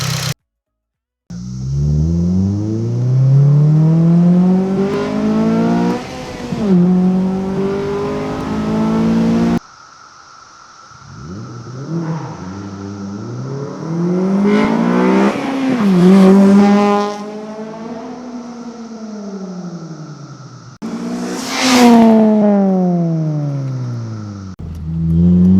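A 2010 Honda Civic Si fitted with a Hybrid Racing cold air intake revs hard and loud, its engine note climbing and falling through several gear pulls over about twenty-five seconds, with breaks between runs.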